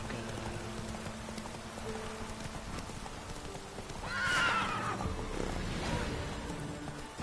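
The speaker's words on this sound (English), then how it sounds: "Que se nos ahoga el puto caballo." A horse whinnies sharply midway through, alongside clip-clop hooves and a soft watery patter, as the animal drowns in The Witcher 3; the call rises loud over a steady game backdrop.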